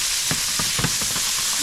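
Scallops searing in a hot pan, with a dense close sizzle and a few soft thumps and scrapes as they are shifted around, steady and fairly loud.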